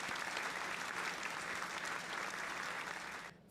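A crowd applauds steadily for about three seconds, dense continuous clapping from a sizable audience that cuts off abruptly near the end.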